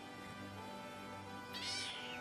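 A kitten gives a single short, high meow near the end, close and clear over a steady electrical hum.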